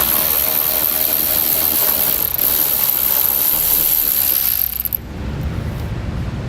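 Ratcheting clicks of a 7mm socket working bolts loose on a 2017 Chevrolet Spark, a steady mechanical rattle that stops abruptly near the end, leaving low rumble.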